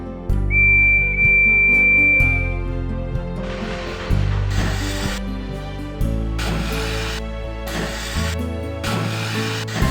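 A steam engine, Percy, sounds a single sustained whistle blast near the start, clear and steady, over continuous background music.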